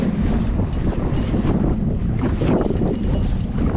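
Strong wind gusts across the lake and buffets the microphone on a small fishing boat during trout trolling, a constant loud roar with water wash underneath and no voices.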